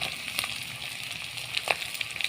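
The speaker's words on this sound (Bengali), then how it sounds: "এগুলো আগে একটু ভেজে নিতে হবে তারপরে অন্য অন্য সবজি আমি দেবো" Potato and carrot pieces fry in a pan over browned onion with a soft, even sizzle, fairly quiet and close, dotted with small sharp crackles and pops toward the end.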